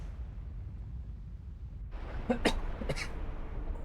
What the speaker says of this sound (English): overload the mic with my coughing.